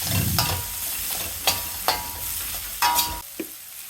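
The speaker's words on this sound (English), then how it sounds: "Now add chopped broccoli. Saute for 2 minutes." Chopped onion and broccoli being sautéed in a pan, a steady close sizzle punctuated by several scraping stirs and clinks of a spatula, without any voices.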